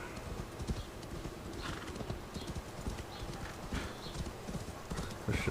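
A horse in Assassin's Creed Valhalla gallops with a steady, rapid clip-clop of hooves and gives an occasional whinny, set against a constant game background.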